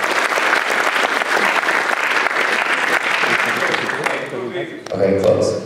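Warm audience applause at a Python programming conference lightning-talk session, dense steady clapping from a room of attendees that tapers off as someone starts talking.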